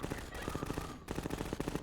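Rapid automatic gunfire fired at antlions in the video game Half-Life 2 rattles in a steady stream of quick shots, with a brief pause midway, at low overall volume.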